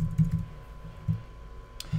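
Computer keyboard keys click in short, irregular taps at close range, a handful of soft strokes separated by brief pauses, no voice.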